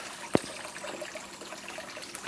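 A bell siphon in an indoor turtle pond aquaponics grow bed releases a single sudden gurgling gush, followed by a soft, steady trickle of water running on faintly, with no talking.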